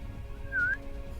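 A voice imitates a whistling creature from a fantasy tabletop game: one short, thin whistle that dips and rises in pitch. It is close, heard on its own over a quiet room background.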